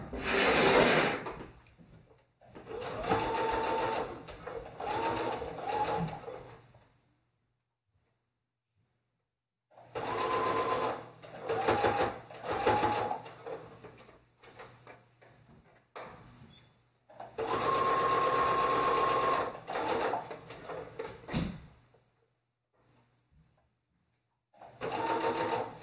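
A sewing machine stitching a quartering seam on a garment top, running in three whirring, rhythmic bursts of a few seconds each, separated by quiet pauses, with a final short burst at the end.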